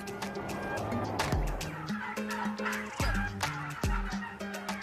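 Around three thousand turkeys on a family turkey-breeding farm in Bavaria gobble and call in a loud, dense flock, with repeated overlapping bursts rising above a constant background of bird noise.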